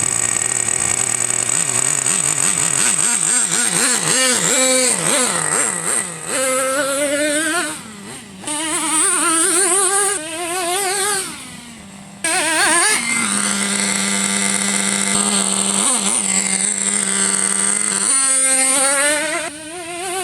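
A Traxxas T-Maxx nitro RC truck engine runs with a high buzzing whine, revving and wavering up and down before settling back, with a few short dips, loud and close throughout.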